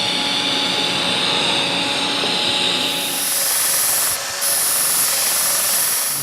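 A power tool dresses down a weld in a garage, giving a steady, loud broadband grinding hiss that runs the whole time with a brief dip near the end, and no talking.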